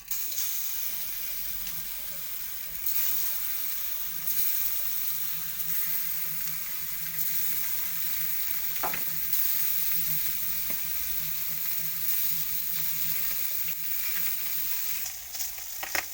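Fish pieces rubbed with salt and turmeric fry in hot oil in a pan, making a steady, dense sizzle that runs unbroken for the whole span. A couple of faint clinks sound from the cookware, and nobody speaks.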